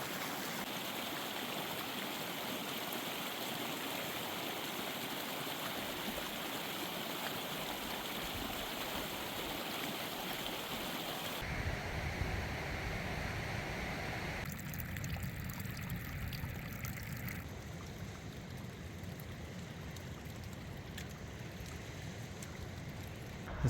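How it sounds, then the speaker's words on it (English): Rushing water from waterfalls in a mountain valley makes a steady broadband roar, with the tone shifting as the listener moves along the trail and the flow alternately nearer and more distant. "There's so many waterfalls in this valley."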